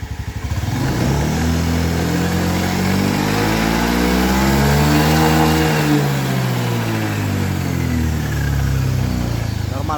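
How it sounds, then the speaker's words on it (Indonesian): Honda motorcycle engine revving steadily as the throttle is held open, a loud close continuous drone that climbs and falls in pitch, with no talk over it. "Nah sekarang kita tarik gasnya"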